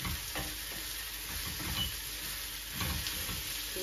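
Spiny gourd fries in a pan with ginger and garlic, giving a faint, steady sizzle broken by soft scrapes and clinks of stirring.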